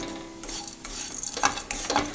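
Grated coconut and banana being stirred in a hot pan with sugar and ghee: a short spell of soft sizzling broken by several scraping strokes of a spoon across the pan, close and without talk.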